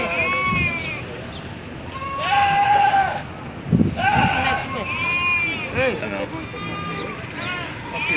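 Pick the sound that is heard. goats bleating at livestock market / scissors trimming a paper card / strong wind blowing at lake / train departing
goats bleating at livestock market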